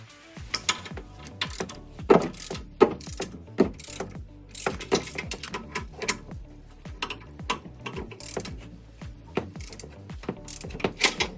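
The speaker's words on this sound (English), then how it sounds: "remove these tow hooks with a 24mm socket and a breaker bar" A breaker bar and 24mm socket ratchet out tow hook bolts on a 2019-2024 Ram 2500 truck, a close run of rapid clicking pawl bursts with pauses between strokes, no talking.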